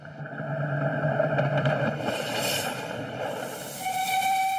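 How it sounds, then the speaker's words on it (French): Steam locomotive of the Train des Pignes running on rails, a steady rolling rumble with hissing steam and sustained whistle-like tones throughout, fairly loud and close, no talk. "le bruit des rails, le bruit de la locomotive, les pchit"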